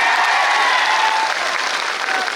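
A crowd at a political protest rally in Beed claps loudly and continuously, dense close applause that fills the whole moment without a break.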